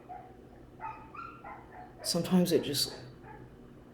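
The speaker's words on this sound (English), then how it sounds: "It's been doing that for over an hour, like just whining, crying like that." A dog whines and cries in short high yelping bursts, briefly and partly under a person talking nearby, part of a long nonstop bout of whimpering.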